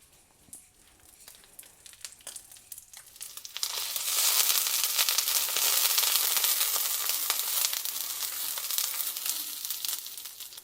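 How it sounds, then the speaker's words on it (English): Thick slices of bread frying in rendered A5 Wagyu beef fat, starting with quiet crackles and swelling after a few seconds into a steady, loud, close sizzle with scattered pops. "I will put these in the fat from the Wagyu beef."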